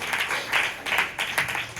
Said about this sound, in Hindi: एक बार प्रभु के लिए फिर से तालियां बजाते हैं